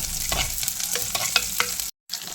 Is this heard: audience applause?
no